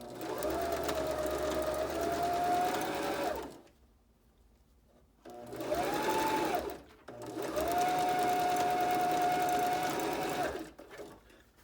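A sewing machine stitches back and forth over the ties of a fabric face mask, running in three sustained whirring bursts of a few seconds each, separated by brief pauses, close and steady.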